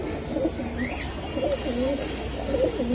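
Pigeons coo nearby in soft, repeated low warbling calls, two or three rolling phrases over a steady background hum.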